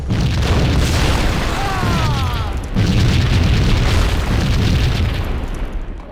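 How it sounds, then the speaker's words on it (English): Heavy explosions rumble and boom in a Max Payne shootout inside an apartment complex, two loud sustained blasts back to back, the second rolling in after a brief dip, with crackling debris and no talk. "A lot of explosions."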